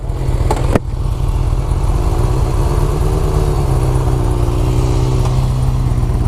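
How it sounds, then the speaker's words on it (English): A brand new Harley-Davidson Low Rider S motorcycle engine rumbles steadily and loudly while riding near Poway, California, with a deep continuous throb and a brief dip early on, no talking. "I'm on the Harley Davidson Lowrider S. This is a brand new bike."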